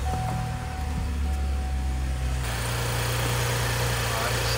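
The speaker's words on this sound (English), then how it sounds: "So let me go start this engine and we'll come back and see what this thing says." A car engine cranks and then settles into a steady idle during a battery starting test, loud and close with a continuous low rumble.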